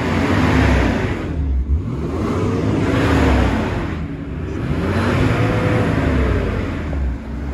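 A Nissan R34 Skyline fitted with a Blitz Nur Spec exhaust revs up and settles about three times in a row, a loud, close, whirring engine tone with a vacuum-like whine.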